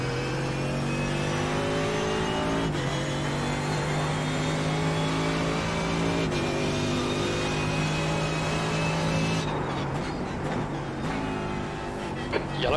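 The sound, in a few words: Mercedes AMG GT3 race car engine in iRacing video game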